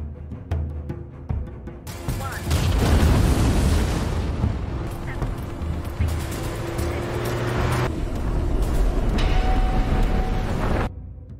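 A massive explosion from a bomb dropped by an aircraft in a film erupts after a few seconds, followed by a long, heavy roaring rumble that continues loudly before cutting off abruptly.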